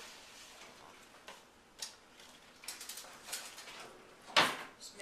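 A whisk mixing cinnamon, nutmeg and sugar in a bowl for a Brown Betty, heard as quiet, sparse, irregular ticks and light scrapes, with one sharper clink near the end.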